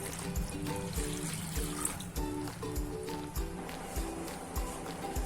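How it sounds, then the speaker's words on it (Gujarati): Water poured from a small bowl into a pan while making upma, a steady trickling splash running through the whole stretch against a busy kitchen background. "વાટકીથી આપણે બે વાટકી પાણી ઉમેરી દેશું"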